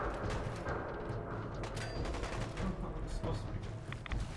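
Rapid popping bursts from a firework launcher in heavily modded Fallout 4, layered with other game sounds, firing repeatedly at close range.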